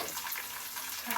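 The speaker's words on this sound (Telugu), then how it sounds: "తొందర తాలింపు వేసినప్పుడు తిందాం" Tempering for semiya upma sizzles steadily in a hot pan, a bright hissing crackle that stays close and fairly even through the short moment.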